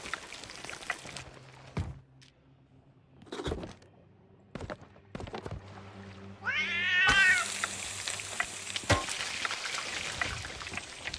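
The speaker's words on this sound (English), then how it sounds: "Turns out you can, in fact, feed the cat." A cat in the video game Sea of Thieves meows while being fed, one clear drawn-out meow in the middle of scattered thumps and clicks, with a constant rain-like wash of ambience in the background.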